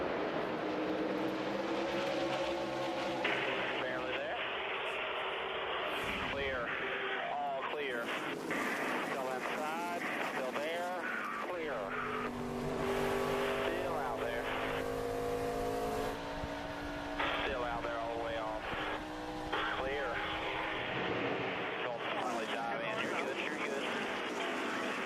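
Stock cars in the 2008 Nationwide Series Pepsi 300 roar back to green on a lap 64 restart, engines droning loudly and continuously at full throttle as a commentator talks throughout.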